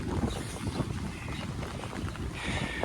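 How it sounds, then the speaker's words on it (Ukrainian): Gusty wind buffets the microphone outdoors in rain in Kyiv, a steady rumbling roar with no voices. "О, вітер який"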